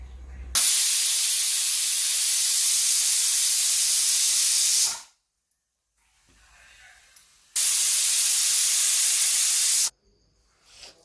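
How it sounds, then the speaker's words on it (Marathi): Loud, harsh steam hiss from a pressure cooker whistle in two long bursts, each several seconds, separated by a quiet gap. "कुकर आपण लावलेला आहे याच्या तीन शिट्ट्या आपण घेत आहोत"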